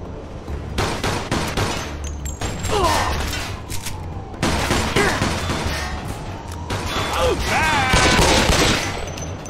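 Dense gunfire in the Mafia II game, a rapid fusillade of close, loud shots in overlapping bursts that persist nearly throughout, with short pauses and a few raised voices mixed in.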